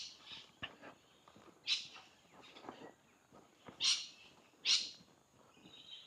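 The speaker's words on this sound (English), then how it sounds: "Nice bird sounds." Birds sing and chirp along a tree-lined riverside path in Innisfail, Australia, with several loud, sharp calls rising above a softer, busy chorus in the background.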